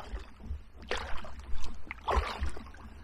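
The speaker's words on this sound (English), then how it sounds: "Do a load of wave chop on the front of the craft." Waves chop and slap against the bow of a paddled craft on the River Stour, irregular splashy knocks and gurgles close up, with a few heavier hits.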